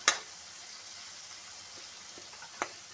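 Tomatoes cooking in a frying pan, a soft continuous sizzle close by, with a sharp clink of a utensil at the start and another near the end, no talk.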